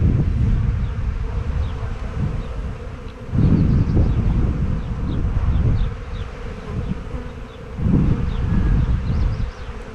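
Buckfast honeybees buzz steadily around an open hive during a spring brood-frame inspection, a dense close drone swelling and easing in waves with light wind.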